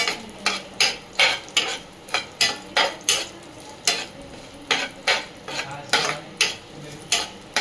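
Cashew pieces and raisins frying in ghee for modak, with a spoon scraping and clacking against the pan in a quick rhythmic series of strokes over a soft sizzle.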